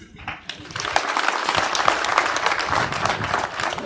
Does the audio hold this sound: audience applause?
yes